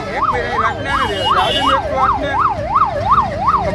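Wailing ambulance siren rising and falling in a fast, regular cycle over the low rumble of nearby traffic in Jamnagar district.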